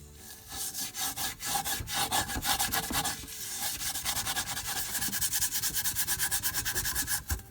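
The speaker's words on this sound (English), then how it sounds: "so I'll go ahead and start scrubbing directly with this" Scorched pan scrubbed with dishwashing detergent, a close, loud, rhythmic rasping rub in fast back-and-forth strokes, continuous throughout.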